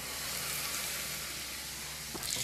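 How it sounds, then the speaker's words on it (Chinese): Hot oil poured into a bowl of plain flour and Sichuan pepper powder sizzles in a close, steady hiss, with a few small clinks near the end. "倒入烧制好的热油"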